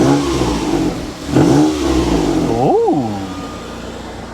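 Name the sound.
Mitsubishi 3000GT engine revving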